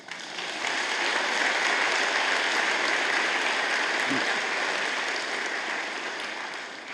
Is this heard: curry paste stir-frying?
no